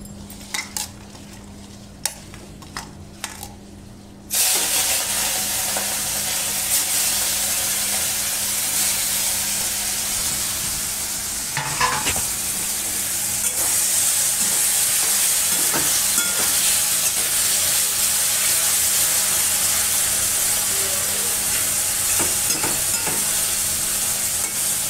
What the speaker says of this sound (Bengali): এগুলো মাখিয়ে এখন আমি ভেজে নেব